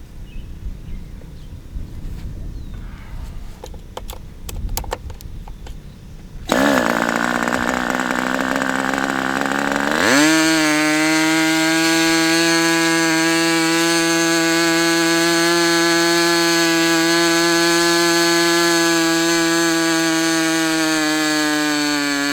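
A Raduga 10RU model engine fires up after a few pops and then runs on at a loud, steady high-pitched whine, with no voices.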